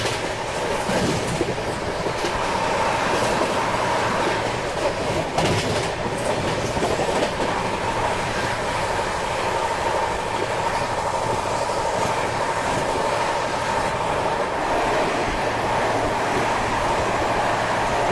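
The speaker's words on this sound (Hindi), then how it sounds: "अब सबसे पहले ओवरटेक में नंबर आएगा तेलंगाना एक्सप्रेस का, उसका ओवरटेक आपको दिखाते हैं।" Rajdhani Express passenger train overtaking the Telangana Express on an Indian main line, a loud steady roar of rolling wagons with continuous clickety-clack over rail joints, close by and without talk.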